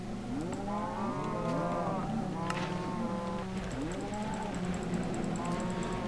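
Cows moo in an automated cow farm inside a video game, several long overlapping lowing calls in quick succession over a constant droning background hum.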